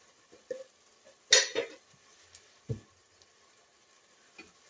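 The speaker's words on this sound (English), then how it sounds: "I will give it a stir now" A spoon stirs homemade spaghetti with chili in a pot, giving a few scattered clinks and scrapes, one sharper knock and a low thud, quiet and close, with no talking.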